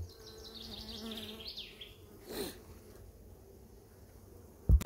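Honeybees buzz steadily at an opened hive being checked after merging colonies, a close, continuous drone with rising and falling whines from passing bees and a brief knock near the end.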